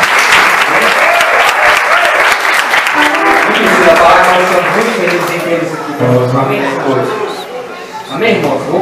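Loud congregation applause at an evening church anniversary service in Belo Horizonte, strong at first and fading as voices and speech take over in the second half.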